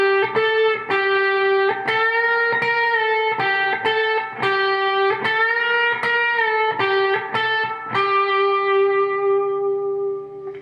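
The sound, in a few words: electric guitar playing solo slowly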